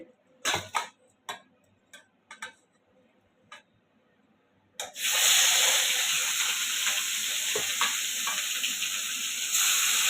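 A few sparse clicks and taps come first, then rohu fish pieces hit the hot pan and a loud, close, continuous sizzle takes over for the remaining five seconds.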